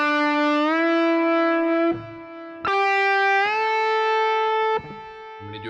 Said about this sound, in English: So a bend in time will sound like this.